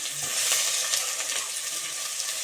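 Potato, green chilli and tomato fry in a pan for spinach sambar, giving a steady close sizzle with faint stirring scrapes throughout and no talking.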